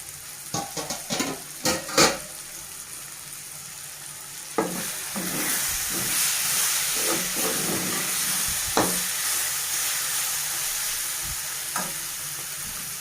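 Bottle gourd curry with green chilli and chilli powder simmers and sizzles steadily in a pan, a continuous frying hiss with a few sharp clinks of stirring near the start and occasional utensil taps later.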